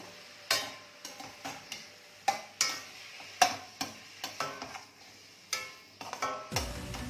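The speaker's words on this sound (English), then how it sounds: "Mix it nicely so that the salt spreads everywhere." A utensil stirs button mushrooms with salt in a pan, making a series of sharp scraping clacks at an irregular rhythm over a faint sizzle, up close with no talking.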